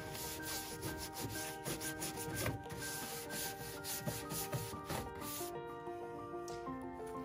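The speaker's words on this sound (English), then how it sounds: "I'm rubbing that wax into the surface of the paint, and then I'm going to buff it to bring it up to a really pretty shine." Wax being rubbed by hand into a painted wood furniture surface, a close, steady scrubbing with rhythmic strokes, alone with no talk.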